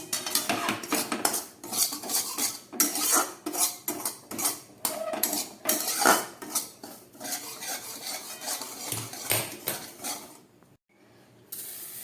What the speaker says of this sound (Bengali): একদম গ্যাস কমিয়ে একটু লালচে করে সুজিটাকে আমি ঘিয়ের মধ্যে ভেজে নেবো